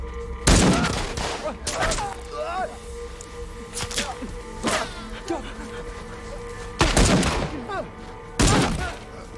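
Several loud gunshots crack at irregular intervals, some in quick pairs, over a background of chatter and scattered movement.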